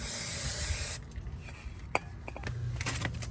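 Brake cleaner hisses from a spray can in one steady blast for about a second onto the rear brake caliper of a BMW E46 330ci, then a few light metallic clinks and rubbing sounds follow nearby.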